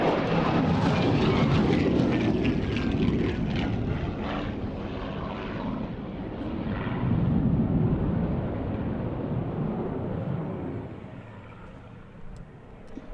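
Avro Vulcan XH558 jet performing flying display manoeuvres, a loud, broad roar that swells, eases, surges again, then fades toward the end, heard from the ground.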